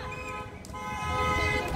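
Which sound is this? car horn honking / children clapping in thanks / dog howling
car horn honking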